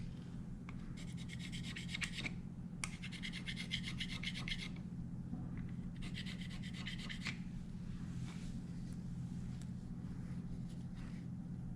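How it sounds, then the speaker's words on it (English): A tool scrapes old sealant off Ducati Testastretta cam caps in repeated bursts of gritty rasping, up close. The scraping dies away into quieter handling noise toward the end. "I'm going to also scrape the cam caps because they have corresponding sealant on them still."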